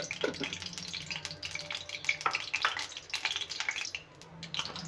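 Crackling, popping sizzle of mustard seeds in hot oil in a kadai, uneven bursts with a brief lull near the end, no speech.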